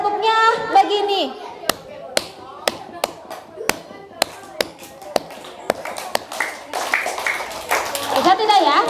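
Children in a school classroom performing the tabako clap pattern, a row of sharp, evenly spaced hand claps in the middle stretch, with kids' voices and an adult talking before and after.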